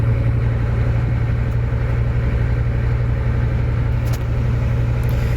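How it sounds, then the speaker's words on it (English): A 1990 Ford F Super Duty with a diesel engine conversion, held at raised revs with a steady, loud, uniform engine drone and a strong low hum throughout, no clear rise or fall. "Just going to rev it up and see if that increases the cooling at all."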